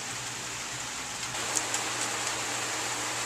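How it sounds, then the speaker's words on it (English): Steady, healthy rain falls outdoors at night around 8:30, a dense even hiss with no breaks and no talk. "Nice healthy rain."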